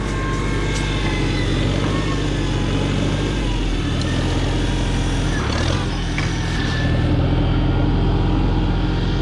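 A tractor engine held at a steady raised idle so it won't sputter, a continuous low rumble with a few brief knocks, loud and close throughout.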